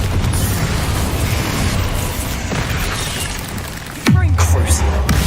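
A blasting spell erupts in a Harry Potter video game, a sudden heavy boom near the end cutting over a dense, noisy wash of game sound and voices.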